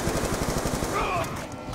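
Galil rifle fire in Call of Duty Zombies on the Buried map, a steady stream of rapid automatic shots that tapers off near the end, mixed with faint background game sounds.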